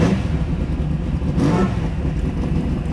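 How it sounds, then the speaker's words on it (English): A 1965 Shelby GT350 Mustang rumbles loud and close through its side-pipe exhaust, with a deep, rough, continuous roar and a brief swell in revs midway. "The side pipes sound really good."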